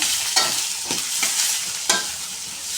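Chopped greens fry in a pan as salt and turmeric are stirred in, a loud continuous sizzle broken by a few sharp scraping strokes of the spatula, with no talking.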